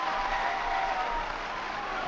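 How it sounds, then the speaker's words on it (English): A large arena crowd cheers and applauds a gymnast's stuck landing at a men's artistic gymnastics World Challenge Cup final in Varna, Bulgaria, a dense, sustained roar with no break. "This man sticks the landing and just listen to the reaction from the crowd"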